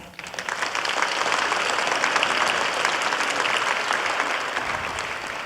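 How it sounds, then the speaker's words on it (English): An audience at a formal school board meeting applauds, quickly building to a dense, steady clapping that fades slightly toward the end, with no talking. "please stand and give a round of applause"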